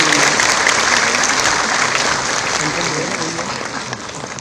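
Audience applause fills a formal government stage event where job appointment letters are handed out, a steady, dense clapping that stays loud throughout and eases off slightly near the end, with no talk over it.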